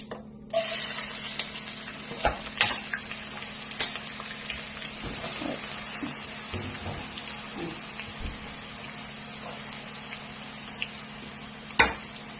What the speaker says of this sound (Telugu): ఆయిల్ హీట్ ఎక్కుతుంది కదండి. ఆనియన్స్ వేసేద్దాం ఫస్ట్.